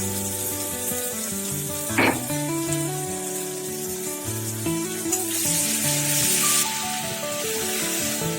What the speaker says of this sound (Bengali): গোটা জিরে ওটাকে তেলে দিয়ে একটু কষিয়ে নিতে হবে